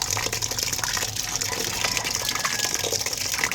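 Tap water gushes steadily from a faucet to rinse salmon for a Filipino soup with tomato and greens, a continuous close, loud splashing flow throughout.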